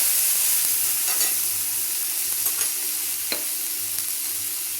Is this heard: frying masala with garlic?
yes